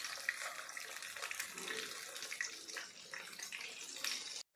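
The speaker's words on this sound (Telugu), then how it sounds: "దీనిలోనికి మనం రెడీ చేసుకున్న మంచూరియన్ బాల్స్ వేస్తున్నాను" Veg Manchurian balls drop into hot oil and deep fry with a dense, steady hiss and crackle close to the microphone, continuous for several seconds before cutting off sharply.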